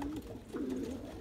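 Homing pigeons being readied for training flights coo softly in a short, close burst, two low throaty coos in quick succession over faint background hiss.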